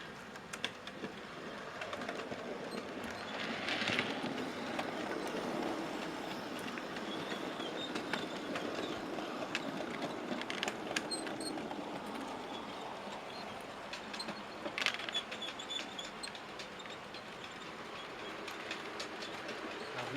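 Eight-wheel-drive model railway locomotive running along clean track in a loft layout, a steady rattling, grinding mechanical whir with faint clicks, continuous at moderate distance for twenty seconds.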